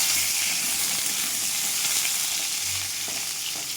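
Pieces of young ash gourd frying in hot oil, a dense, even sizzle that hisses steadily and loudly throughout with a few faint clinks underneath.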